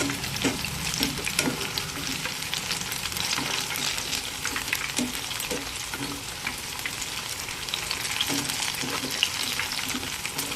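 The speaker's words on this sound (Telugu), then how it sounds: "హై ఫ్లేమ్లో ఆయిల్ అయితే బాగా హీట్ అయిన తర్వాత పకోడీ అన్నీ వేసుకున్న తర్వాత స్లోలో అయితే పెట్టుకోండి" Chicken pakoda pieces deep-frying in hot oil give a dense, steady sizzle and crackle that fills the whole stretch, loud and close with no talk over it.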